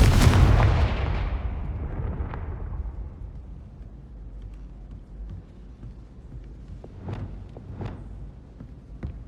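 A Confringo explosive spell goes off in Hogwarts Legacy as one loud booming blast that rolls away into a long fading rumble, followed by a few faint footsteps.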